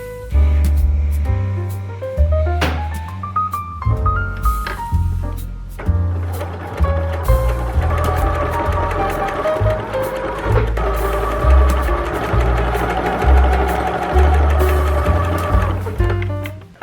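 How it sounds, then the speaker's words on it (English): A sewing machine stitches over a zigzag seam on a tie top, running loud and close in steady bursts, with short pauses and changes in motor speed. "sewing over it now"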